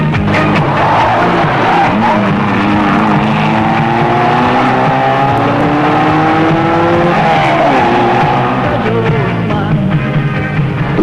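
A Mazda 323 rally car races in a 1993 Philippine rally, its engine roaring loud and close with rising and falling revs as it accelerates and shifts, a dense continuous motor drone throughout.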